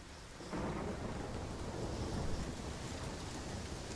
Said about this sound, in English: There's thunder and lightning.